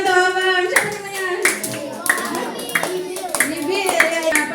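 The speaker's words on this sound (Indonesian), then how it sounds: "Tepuk tangan untuk abang." During a Ramadan history quiz event, an audience claps for a participant: scattered, sharp hand claps break through loud, overlapping talk, including a voice.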